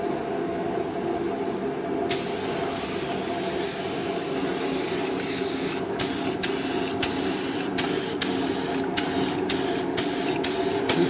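Chameleon candy paint going on in coats from a spray gun, a loud continuous hiss that starts abruptly at about two seconds and keeps going, broken near the end by a series of short regular cutoffs between passes.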